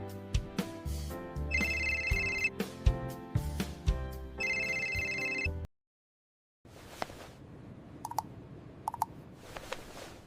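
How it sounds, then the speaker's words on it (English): A phone ringtone plays as a loud, repeating electronic melody with bright chiming tones, cuts to silence for about a second, then resumes more faintly with intermittent rings and clicks. "I'll call your phone so we can hear where it is."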